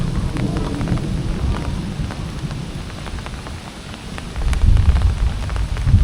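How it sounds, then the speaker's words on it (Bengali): Steady spring rain pours down amid gusting wind, a dense continuous hiss with scattered drop impacts, and a deep rumble of thunder swells near the end. "এই বসন্তকালে প্রথমবার আজকে বৃষ্টি হচ্ছে"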